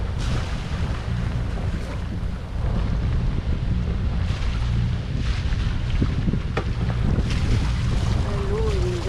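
Wind buffets a boat at sea off the Bahamas, a steady loud rumbling roar against the hull and microphone with occasional gusts and slaps of water.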